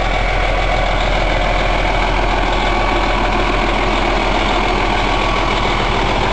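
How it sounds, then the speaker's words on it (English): A truck engine idles steadily and loudly up close, a constant heavy diesel rumble with no talk over it. "So here's my truck."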